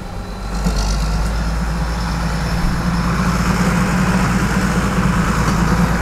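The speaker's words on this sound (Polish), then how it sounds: "O, tu traktorek śmiga" A farm tractor pulling a trailer rolls past on a rural road during harvest season, a loud, steady low engine drone that swells and holds close by, with no speech over it.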